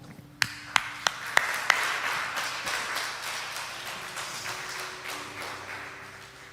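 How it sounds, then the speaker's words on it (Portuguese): A preacher claps five sharp times in quick succession, close and distinct, then the sound fades into a reverberant hall ambience with a faint sustained tone. "Eu vou aplaudir, foi muito bom."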